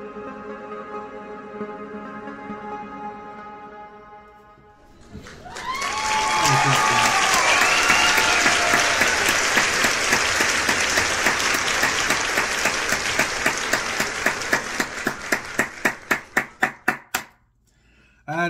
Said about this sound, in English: I had to clap that one up